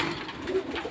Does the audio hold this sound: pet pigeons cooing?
yes